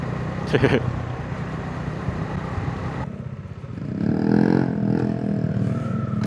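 Motorcycle ridden on a road in Zambales, its engine a steady drone that shifts in tone partway through with a swell, plus a brief clatter near the start.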